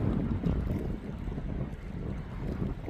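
Strong wind buffets the microphone in a continuous low, rumbling roar that swells and eases slightly, with no voices, at a reservoir.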